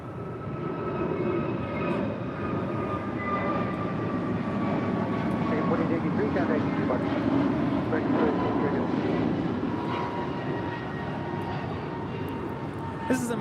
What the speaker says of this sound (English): 2883 departing to Miami, Florida on an A321neo